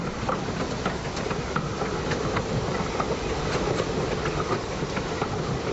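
A train rolling along a railroad, steady loud rumble with rhythmic clickety-clack of wheels over rail joints throughout, close by and continuous with no voices.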